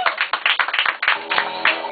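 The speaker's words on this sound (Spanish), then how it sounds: "¡Aplausos para la maquillero!" Short burst of applause and scattered clapping from a poetry festival audience in Medellín, hands beating in quick uneven patters for the makeup artist, close and fairly loud.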